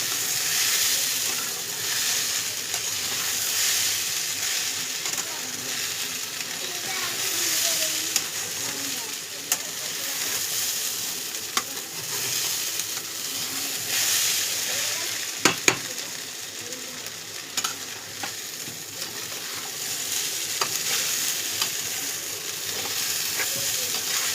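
Goat mince sizzles and fries steadily in a pan for khichuri, a continuous bright crackle with occasional stirring scrapes and a few sharper clacks, close and fairly loud throughout.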